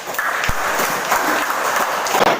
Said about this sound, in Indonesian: Sekarang berilah tepuk tangan untuk kelompok 1.